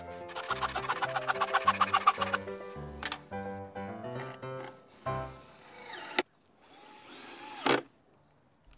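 A power drill pre-drills and then drives screws into cut wooden planks while a raised garden bed is built: a rising whine in quick repeated bursts, then shorter close, loud runs, ending in a few sharp clicks.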